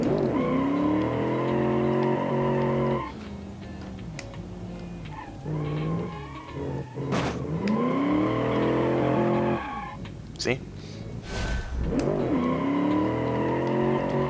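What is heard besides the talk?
fast car wheel spin in video game Automation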